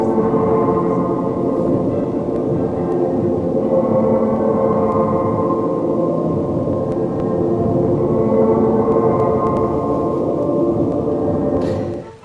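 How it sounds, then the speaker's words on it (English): A time-travel sound effect: a steady, dense electronic drone hums continuously for about twelve seconds at an even, fairly loud level before cutting off abruptly. "Here's the sound of time traveling."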